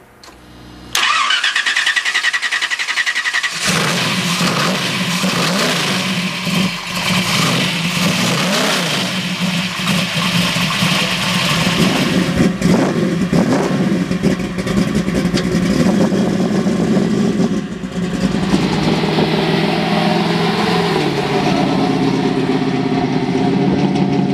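A 1972 Chevy Camaro V8 starts with a burst, then rumbles loudly and steadily as it pulls away and drives, the engine note rising and settling with throttle changes, close and alone without talk.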